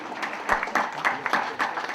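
Scattered applause from an audience at a tenth-anniversary event for a counseling organization, a handful of uneven claps coming through at moderate volume with no talk over them.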